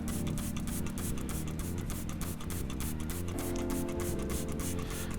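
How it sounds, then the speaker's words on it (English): Hand pump-action bottle set to stream, squirting cleaner into an ITG foam air filter: rapid repeated rhythmic spurts and hiss, continuous and fairly loud with no talking. "So we've got it in a pump action bottle here, so make sure that it's set on stream and then just start to pump it into the filter."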